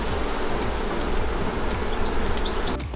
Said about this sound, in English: So this is where a few of the beehives are hiding, behind those boards.